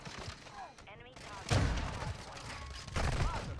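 Victus XMR (Basilisk) rifle firing in Call of Duty: Modern Warfare II, two heavy single shots about a second and a half apart, loud and booming over faint background game noise and occasional voice.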